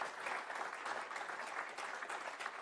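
Audience applause at a press conference for the ADAC 24h race, steady dense clapping from many hands filling the whole stretch without a break.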